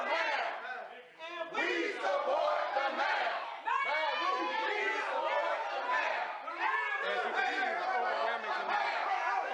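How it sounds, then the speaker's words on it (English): A large crowd at a political rally in Douglas chants and shouts in unison. The mass of voices stays loud and continuous with brief dips between chant phrases, and individual shouts rise above the din. "We see an overwhelming crowd."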